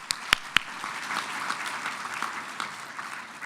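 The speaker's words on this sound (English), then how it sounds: "Let's give him an applause, too." An audience at a college scholarship celebration claps, opening with a few loud, distinct claps before settling into a steady, moderate ripple of applause.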